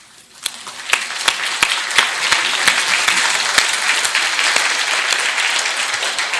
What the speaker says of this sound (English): So I think we should all stand up and give ourselves a round of applause.